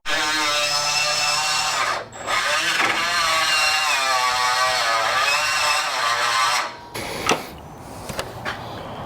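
Power tool grinding metal to enlarge a hole in a sway bar bracket on a 1960s Chevrolet C10 truck, a loud steady whining grind with shifting pitch, then a brief stop and a few short bursts near the end.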